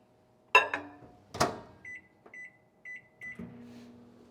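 Microwave oven heating milk to scald it in a home kitchen, with a door thump, a few short electronic beeps and the low steady hum of the oven starting up, close and clear, no talking.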